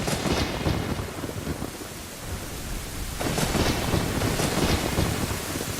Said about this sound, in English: it's the thunderstorm